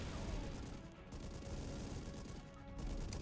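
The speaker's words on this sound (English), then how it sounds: "my cannon is doing some work on his troops" Cannon fire in the mobile war game Call of Duty: Heroes, a dense rumbling barrage of blasts and crashes running continuously at moderate level with no talk.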